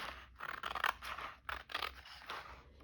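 Scissors snip repeatedly through material in a quiet room, a run of close, crisp cutting strokes in uneven rhythm with short pauses between bursts, heard alone without talk.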